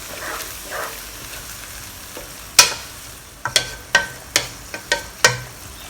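Minced meat with light and dark soy sauce and white pepper is stirred in a sizzling pan: a soft fry underneath, punctuated by a series of sharp spatula scrapes and knocks against the pan in the second half.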